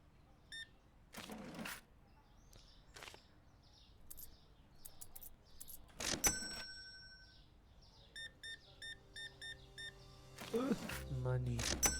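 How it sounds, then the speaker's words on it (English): Scattered bird chirps and tweets in a Supermarket Simulator game scene, repeating short high calls spread through the clip alongside register-like beeps, with a person talking over them at times. "Do you guys hear like a shitload of birds?"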